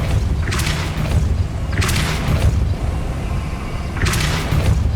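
Depulso spell blasts in the Hogwarts Legacy video game, three loud whooshing bursts over a low rumbling game soundscape, spaced about two seconds apart.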